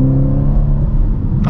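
A Mini Countryman JCW revs at full throttle in a short, loud, dense burst of engine roar with a deep rumbling low end.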